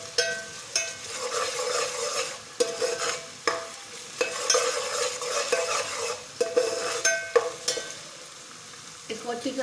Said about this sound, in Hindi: इसको अच्छी तरह से 2 से 3 मिनट भून लेंगे हम।